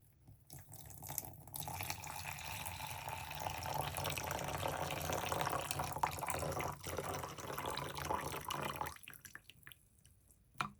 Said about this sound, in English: Six ounces of hot water.